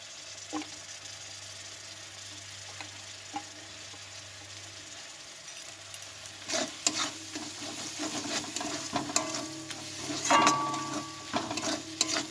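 Spice masala with chopped coriander leaves sizzles gently in a pan, with soft scraping stirs and clinks growing busier and louder toward the end over a steady low hum.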